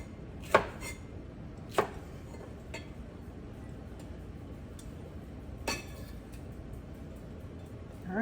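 Jalapeno being chopped on a cutting board: a few sharp, separate knife strikes spaced a second or more apart, with a faint chopping patter between them in a quiet kitchen.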